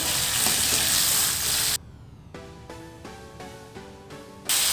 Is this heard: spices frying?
yes